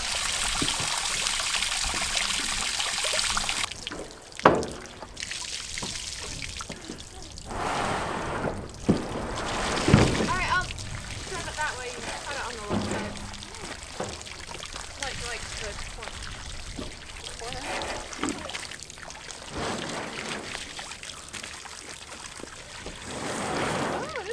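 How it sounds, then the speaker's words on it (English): Water emptied from a nearly empty tank on a ranch, pouring and trickling in a steady stream with splashy bursts, close by, while people talk over it. "We're about out of water, but not enough, so we're gonna empty it, and then we'll get the tank off."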